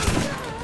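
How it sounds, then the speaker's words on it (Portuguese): Gunfire in Borderlands 1, a first-person shooter video game, comes as a loud, close burst of overlapping shots at the very start, then decays into a ringing tail. "Um tiro só. Dois tiros."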